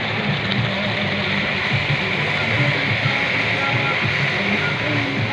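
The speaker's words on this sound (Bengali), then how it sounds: "এইবারে একটু জল দিয়ে দিলাম, আর জল দাও, পরিমাণ মতো জল ঢেলে দিলাম" Water pours steadily into a pan of frying pangas fish curry, a continuous close rushing splash that lasts throughout, with no voices over it.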